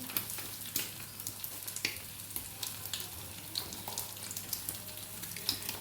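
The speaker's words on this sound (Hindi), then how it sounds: "ये देखिए हमारा अंडा जो है वो भी फ्राई हो रहा है।" Egg and paratha frying on a hot tawa griddle, a soft continuous sizzle with small crackles and pops, fairly quiet and steady throughout.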